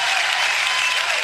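A large crowd of people applauds and cheers. The clapping is dense and steady, loud and continuous through the whole short stretch, with no gaps.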